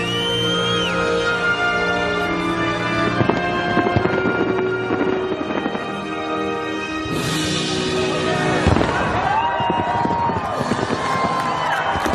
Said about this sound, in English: relive a small part of the fireworks show